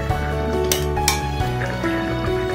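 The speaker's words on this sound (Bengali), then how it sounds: "ঢাকা দিয়ে দেবো।" Lid set on a cooking pot of jackfruit, potato and chicken fat: metallic clinks and clattering knocks of the lid against the pot over a steady simmering hum, close and fairly loud.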